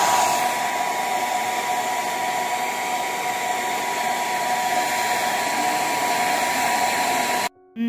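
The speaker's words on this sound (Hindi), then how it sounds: "अभी मैं इसको हेयर ड्राई कर रही हूँ ताकि जल्दी से बाल ड्राई हो जाएं" A hair dryer runs continuously at close range while drying a child's freshly washed hair, a loud, steady whirring blow that cuts off abruptly near the end.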